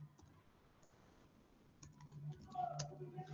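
Faint clicking of keys on a computer keyboard as a command is typed, quiet scattered taps that grow a little busier toward the end, with no talking.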